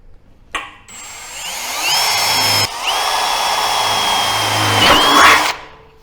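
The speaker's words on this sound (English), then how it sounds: "It does not take a lot to actually drill these holes. So just drill your 4 holes." A close, loud drill whines steadily, its pitch shifting as it bites through thin stainless steel on a grill, with a short break midway before it resumes and winds down.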